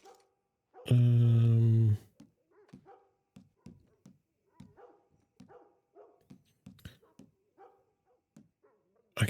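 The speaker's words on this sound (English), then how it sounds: "What is that dog looking about?" A dog in the video game Red Dead Redemption 2 lets out one loud, close bark, followed by a string of softer short yips and whimpers in a quiet setting.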